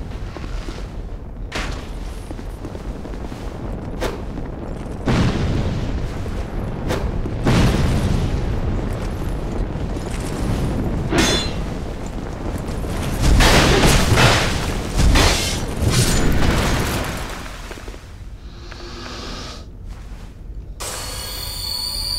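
Repeated heavy booms and blasts from combat in the game Dark Souls II: Scholar of the First Sin, loud, rumbling impacts spread unevenly across about twenty seconds with brief quieter gaps between bursts.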